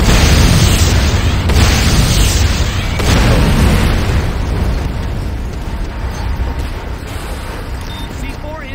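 A C4 charge detonates in the video game Renegade: a loud, sustained boom with rumbling low end that stays dense for the whole stretch and tails off slowly toward the end.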